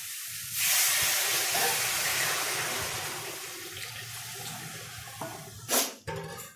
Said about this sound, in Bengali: এই যে আমি গরম জল দিয়ে দিচ্ছি